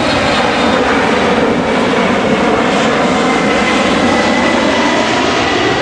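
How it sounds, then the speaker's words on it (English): Delta passenger jet flying overhead near Hickam Air Force Base in Hawaii, a loud, steady roar filling the air continuously without letup. "that's a Delta flight."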